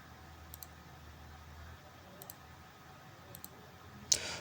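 A computer mouse double-clicks inside simulation software: several faint, quick click pairs spaced a second or so apart, then a sharper, louder click near the end over a low hum.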